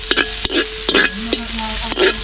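Onions fry in hot oil in a pan for a Sri Lankan Jaffna-style home dish, with a steady close sizzle and a spoon scraping and stirring in quick repeated strokes.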